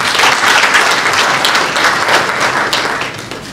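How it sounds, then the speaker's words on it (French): Dense, steady audience applause fills a hall at a national Caritas forum in the DR Congo, loud and continuous before tapering slightly at the end. "nous applaudissons"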